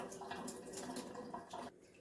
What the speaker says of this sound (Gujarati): એમાં પાણી આ રીતે નીતારતા જઈશું